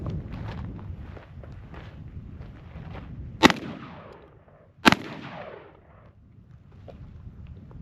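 A Beretta A300 Ultima Patrol shotgun fires buckshot at a target 10 yards away: two sharp, loud blasts about a second apart, each with a brief echo, over quiet rustling and shuffling.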